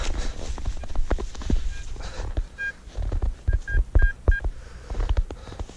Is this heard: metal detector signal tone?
yes